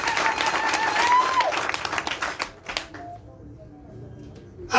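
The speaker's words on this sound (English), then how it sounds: "please a loud clap for all of you" An audience at a political rally claps loudly in a dense burst that thins into scattered claps and fades to near quiet, with a voice faintly heard at the start.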